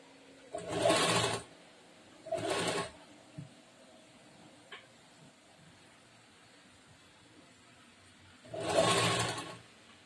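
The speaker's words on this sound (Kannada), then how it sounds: "ಫಸ್ಟ್ ಶೋಲ್ಡರ್ ಮಧ್ಯದಿಂದ ಒಂದ್ ಸ್ವಲ್ಪ ಹೊಲಿತೀನಿ" Sewing machine stitching a kurta sleeve at the shoulder in three short bursts, two close together and one after a long pause, fairly quiet and close.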